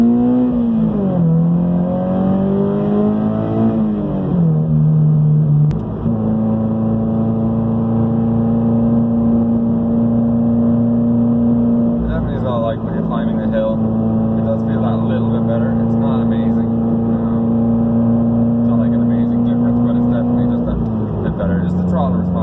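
Toyota GT86 with an OFT tune accelerating hard in sixth gear, a steady loud engine drone with rising and falling pitch sweeps, close and continuous throughout.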